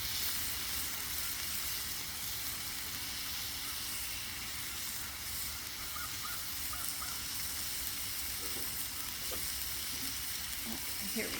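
Chicken, bacon and pineapple kabobs sizzling on a Blackstone griddle, giving a loud, continuous frying hiss that stays steady throughout.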